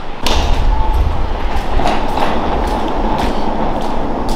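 A Walt Disney World monorail train passing near the north terminal covered walkway, with a loud, steady rumble and rhythmic rail thumps rolling by close at hand.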